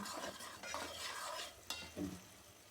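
A spoon stirs egg korma masala with salt in a hot pan, with soft scraping strokes and a gentle sizzle, quiet and close, with a couple of sharper knocks near the end.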